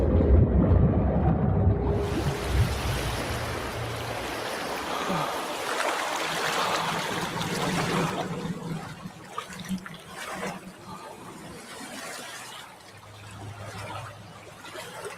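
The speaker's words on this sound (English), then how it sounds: "He throws the necklace into the water" Water in the game Saros as a necklace is thrown in, heard as a steady, full rushing wash that thins after the first seconds into a softer, continuous trickle, close and without voices.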